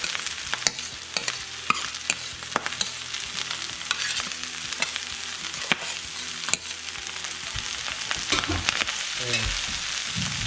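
Cajun trinity vegetables hitting a hot pan for maque choux, a steady close sizzle with frequent spoon scrapes and stirring clatter throughout, no talking.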